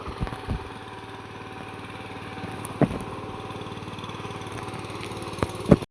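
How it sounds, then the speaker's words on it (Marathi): A tractor ploughing a field during rice transplanting, its engine running as a steady droning chug at moderate distance, with a few sharp knocks and clatters breaking in now and then. "तुम्ही बघू शकता की ट्रॅक्टर नांगरत आहे."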